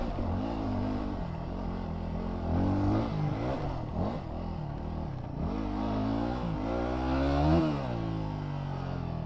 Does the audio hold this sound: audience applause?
no